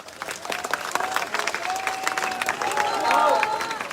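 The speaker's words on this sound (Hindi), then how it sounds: "बस ताली बजा दो एक बार जोर से" A crowd at a political gathering claps hard and continuously, with whistles and shouting voices rising over the sustained applause.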